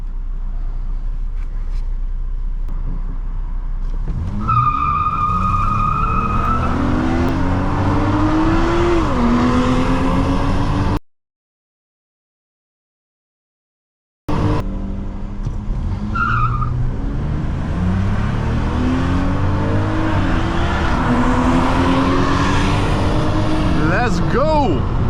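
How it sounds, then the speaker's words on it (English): A 2004 Nissan Maxima 3.5 SE launching hard in an acceleration run, engine pitch rising through the gears as tires squeal and skid. Loud throughout, cut by a brief silent gap midway, with voices in the cabin. "We're just gonna do our acceleration test right here"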